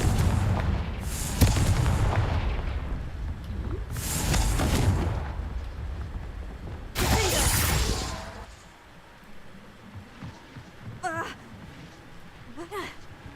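In Hogwarts Legacy, the Confringo fire spell detonates in three loud, booming blasts spaced a few seconds apart, followed by quieter, scattered effects.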